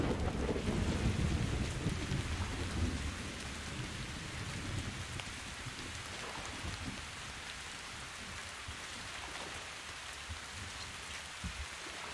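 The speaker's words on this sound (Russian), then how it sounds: "Очень сильный дождик." Heavy rain with thunder in the video game Metro Exodus. A dense, steady hiss of downpour is joined by a low rumbling roll of thunder that is strongest at the start and then fades into continuous rain.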